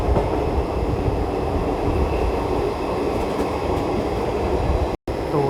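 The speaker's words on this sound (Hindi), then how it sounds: "तो यहाँ पे भी हमें लीड कर रहा है WAP4 लोकोमोटिव। अब यही लोकोमोटिव हमें टिल नागरसोल तक ले जाएगा।" An express train hauled by a WAP4 electric locomotive rolls steadily along, heard from inside a coach as a loud continuous rumble with faint wheel clatter and a brief dropout near the end.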